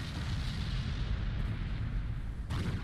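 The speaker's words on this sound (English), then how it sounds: "I mean, that explosion wasn't even that bad." A video game explosion in Resident Evil 5 booms as a dense, sustained roar with a heavy low rumble lasting the whole stretch, loud and with no talk over it.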